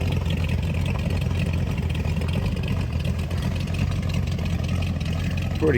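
A car fitted with a Buick engine runs steadily close by, a continuous low mid-pitched engine drone holding fairly level throughout with a slight rise near the end.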